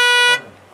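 A car horn honks once at a children's day event, a loud bright blare lasting about a third of a second before cutting off, leaving faint background noise.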